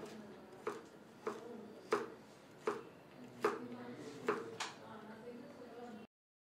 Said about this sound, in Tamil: இப்போ நம்ம ஸ்மால் டைஸஸாக நம்ம கட் பண்ணுறோம்